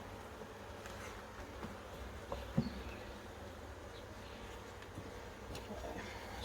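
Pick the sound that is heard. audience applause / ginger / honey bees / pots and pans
honey bees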